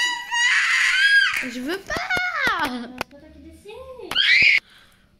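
A young boy screams and cries loudly in a family home, with piercing wails rising and falling in several bursts, broken by short pauses and mixed with his own protesting speech.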